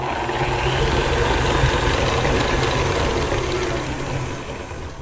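Electric mixer on high speed creaming butter and powdered sugar for buttercream, a loud continuous motor whir with a gritty churning texture, steady and close, easing slightly toward the end.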